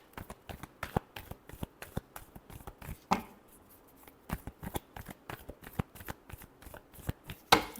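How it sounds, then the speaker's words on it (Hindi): Tarot cards shuffled by hand in a steady run of crisp riffling slaps and flutters, close and clear, with short pauses between bursts and no talking. "Last shuffle."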